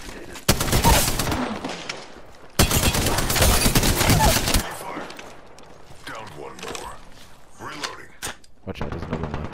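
Loud bursts of automatic gunfire in an Apex Legends fight, two long volleys early on followed by quieter scattered shots and game effects, with a voice talking over parts of it.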